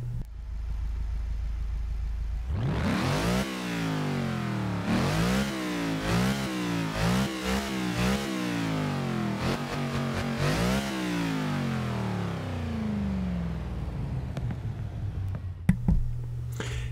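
A 2011 Mercedes SLS AMG engine in the video game Forza 6 revs hard again and again, its pitch climbing and dropping in rapid sweeps before settling back to a low idle.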